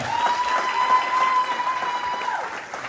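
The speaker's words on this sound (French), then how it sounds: "On peut les applaudir encore." An audience claps steadily at a judo and jujitsu school's end-of-year show, a dense, even patter of applause in a hall, with a faint tone running underneath and no voices.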